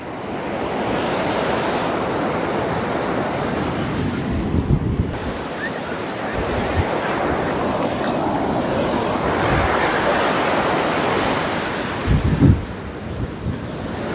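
Waves breaking on the shore at Niladri Beach, Puri, a continuous roaring surf mixed with heavy wind buffeting the microphone, with a few louder thumps and swells near the end.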